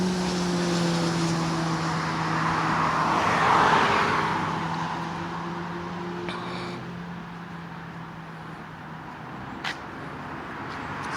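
Cars pass on Route 390 southbound near the Lake Ontario State Parkway in Greece, New York, one swelling to a loud whoosh midway and then fading, with more traffic hissing faintly afterward.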